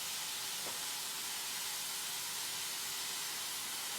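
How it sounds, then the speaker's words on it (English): Meat searing in a hot pan gives a steady, close, even sizzle and hiss that runs unbroken throughout, with no voices. "we're going to give it a little flavor by searing it in the pan"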